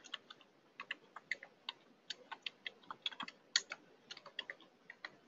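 Fingers type on a computer keyboard in an office setting, an irregular run of crisp, close clicks and taps at a moderate pace, with no talking.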